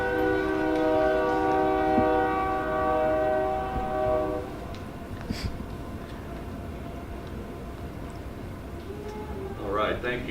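A train horn blares in a long sustained blast that fades out, with rumbling rail noise continuing underneath, heard from outside during an indoor city council meeting.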